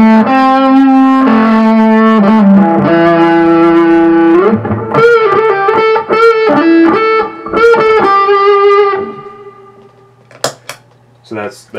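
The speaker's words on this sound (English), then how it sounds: "You just back the tone off and you get this really woofy like woman tone type thing." Distorted electric guitar through a Big Muff distortion pedal with the tone backed off, playing a run of notes with a dark, muffled, rounded tone, then fading into a few sharp clicks near the end.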